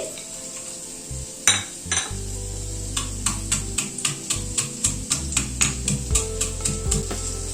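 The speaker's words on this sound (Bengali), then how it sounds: "এখানে যে বড়িটা ভেজেছি, বড়িটাকে একটু হাফ ক্রাশ করে নিচ্ছি।" Fried lentil dumplings (bori) are half crushed in a container with a steady run of about a dozen sharp, evenly spaced taps and crunches, close and alone over a low background hum.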